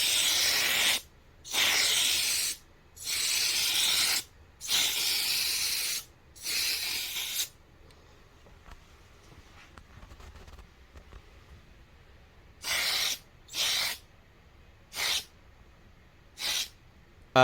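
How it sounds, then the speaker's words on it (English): A spray can paints a Silvia car body part green in a run of five long hissing bursts, a quiet pause, then four shorter puffs, all close and clear with no talking. "If I just set it on the cardboard and spray the front here, the spray can sometimes spin the body in a half circle"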